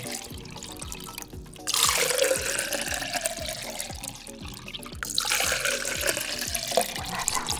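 Water pours in a steady, close splashing stream that swells louder partway through and carries on to the end, with a faint regular ticking underneath.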